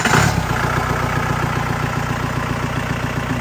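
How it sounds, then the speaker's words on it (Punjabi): Bolero engine in a modified jeep idling on a trial run, a steady close mechanical chug with even pulsing and a brief louder burst at the start, with no voices. "ਬਲੈਰੋ ਇੰਜਨ ਦਾ ਟ੍ਰਾਇਲ ਵਰਕ ਤੁਸੀਂ ਚੈੱਕ ਕਰ ਸਕਦੇ ਹੋ"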